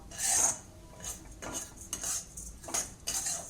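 Cumin, ajwain and fennel seeds dry roast in a pan, a spoon scraping and clinking against the metal in short, rhythmic strokes about every half second, close and fairly quiet with no voices.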